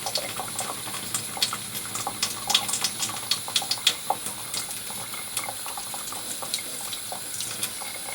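Water runs from a tap while a shaving brush is rinsed, a steady close splashing stream broken by irregular sharper drips and spatters, with no voices.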